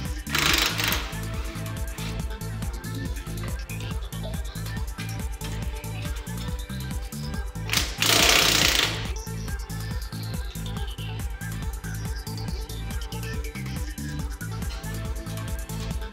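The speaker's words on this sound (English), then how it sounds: "Now we can unbolt the first runway and remove it from the transport frame." A power tool loosens the bolts holding a runway of a TWIN BUSCH TW445E-400-G 4-post lift to its transport frame. It gives two loud short bursts over a steady rhythmic mechanical background.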